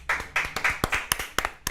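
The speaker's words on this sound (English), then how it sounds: "Let's get a round of applause for that." A few people clap in a ragged, sparse burst, sharp individual hand claps landing irregularly and close by over less than two seconds, with no voices.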